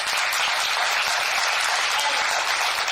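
A seminar audience claps in sustained, even applause, many hands at once filling the room with a dense, steady patter for a few seconds, with no talking over it.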